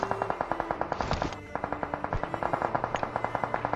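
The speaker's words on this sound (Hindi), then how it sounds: "अब जो ये फायरिंग हो रही है इसको जस्ट आप नोट करो" Rapid automatic gunfire from a mobile battle game on an iPad rattles in a steady fast burst, close and loud, with a brief heavier blast partway through.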